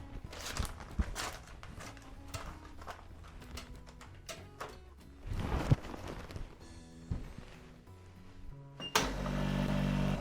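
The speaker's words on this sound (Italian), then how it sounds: "E andiamo a mettere sotto vuoto tutto." Cooking bags are handled with clatter and rustle in a kitchen before a vacuum sealer kicks in near the end with a loud, steady pump drone as it seals them.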